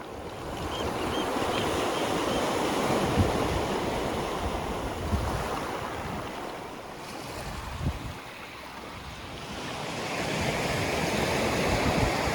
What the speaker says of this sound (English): a beautiful pebbled beach on the North Wales coast